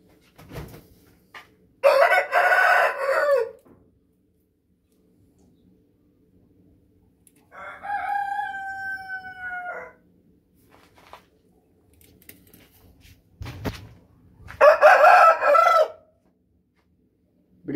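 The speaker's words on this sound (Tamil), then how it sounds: "இப்படி பட்டா டைப்பில் நம்மகிட்ட நிறையா சேவல்கள் இருக்குதுங்க" A fighting rooster crows three times with long pauses between, loud and close, the middle crow clearer and more drawn out, no talking.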